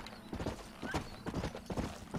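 Horse hooves clop in the Western game Red Dead Redemption, a quick uneven run of mid-level hoofbeats with faint creaks, and no talking.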